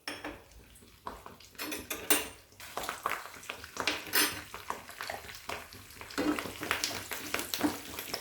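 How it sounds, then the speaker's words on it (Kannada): Curry leaves, cashews and dried chillies fry in hot oil for Udupi-Mangalore chicken urval, a low crackling sizzle under repeated clinks and scrapes of a spoon against the pan. "ಸ್ವಲ್ಪ ಕರಿಬೇವು ಇದ್ದೀನಿ ಆಮೇಲೆ ಸ್ವಲ್ಪ ಗೋಡಂಬಿ ಮತ್ತು ಒಣಮೆಣಸು ಇದಿಷ್ಟನ್ನು ಫ್ರೈ ಮಾಡ್ಕೊಳ್ಳೋ"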